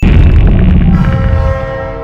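A loud, deep train horn blast from the film Godzilla (2014) booms at close range, then fades into a sustained ringing tone over low rumble.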